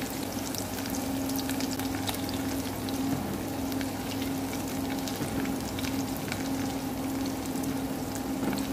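Shallots frying and being stirred in a pan for vegetarian kho quẹt, a steady close sizzle with scraping stir strokes, continuous and even throughout, no voices.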